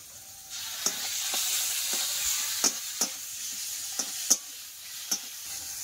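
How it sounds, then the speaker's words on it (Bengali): Cumin-chilli paste sizzles in hot oil with frying spices for a Catla fish curry, a constant hiss punctuated by roughly a dozen crisp spatula taps at uneven intervals. "এই যে জিরে মরিচ বাটা দিয়ে দেবো"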